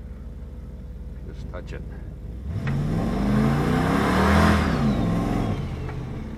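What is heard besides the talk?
boosted 408 LS engine car revving during burnout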